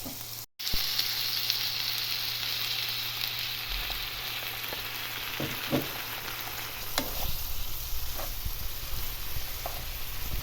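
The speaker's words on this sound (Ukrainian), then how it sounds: "і далі воно трохи піджариться" Steady sizzling of food frying in a pan, continuous and fairly close, with a few light clicks and scrapes of stirring.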